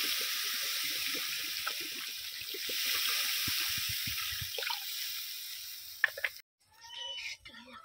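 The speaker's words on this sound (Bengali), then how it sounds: "এবার আমি দিয়ে দিচ্ছি জল।" Water is poured into a pan of cauliflower and potato curry, a continuous hissing stream lasting several seconds before it cuts off, followed by a brief clatter and a faint cat-like sound at the end.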